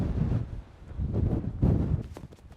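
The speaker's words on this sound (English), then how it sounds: "This wind is really gusting fiercely now." Fierce wind gusts across the desert at Big Bend National Park. Heavy microphone buffeting rises and falls in several loud surges, with nothing heard between them but the wind.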